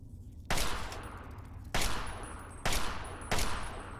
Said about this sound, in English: Mini guns are okay, they're big guns of course, but